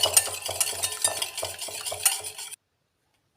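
Icing glaze for halwat tabaa cookies is whisked briskly in a bowl, making rapid rhythmic scraping and tapping strokes close up for about two and a half seconds before the sound cuts to silence.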